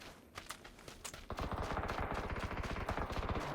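Gunfire in PUBG, a few scattered shots followed by a rapid, continuous burst of automatic fire that rattles loud and near until the end.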